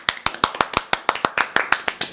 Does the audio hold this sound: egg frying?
no